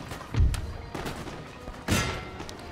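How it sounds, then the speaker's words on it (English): Artillery and musket fire from a Napoleon Total War battle: a heavy low thump near the start, scattered shots, then another loud burst near the end, all moderately distant with no talk. "Keep up the artillery fire on them."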